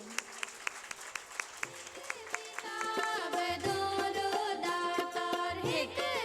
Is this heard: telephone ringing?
no